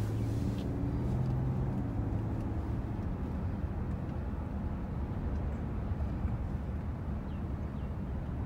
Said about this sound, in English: Very smooth for a diesel, so quiet.